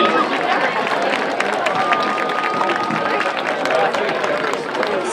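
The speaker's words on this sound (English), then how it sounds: "Let's give a round of applause to all our participants" A crowd at a 2014 high school homecoming football game, Hidden Valley vs Blacksburg, applauds the parade participants: steady, dense clapping and cheering from many people throughout, with voices mixed in.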